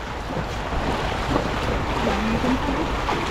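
Steady, loud rushing water at an old dam during heavy rain fills the scene with a constant broadband roar, mixed with wind buffeting the microphone.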